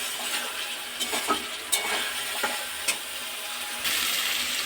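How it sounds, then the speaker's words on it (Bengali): Eggplant frying with spices in a pan, a soft steady sizzle broken by several sharp scrapes and stirring clicks from a spatula, moderately close and with no voices. "এবার বেগুনটাকে দিয়ে আরেকটু কষিয়ে নেবো"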